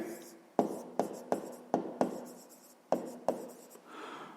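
A pen or pencil writes by hand, working through a fifth-grade math exercise, giving about nine distinct sharp taps and strokes in uneven rhythm. They sit close and fairly quiet, with faint room tone and low voice hum.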